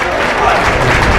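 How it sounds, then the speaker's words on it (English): Polite applause from a quiet Seton Catholic crowd at a boys' high school basketball game, a steady patter of scattered clapping across the gym with a commentator's voice running over it. "A quiet Seton Catholic crowd, polite applause, and that was it"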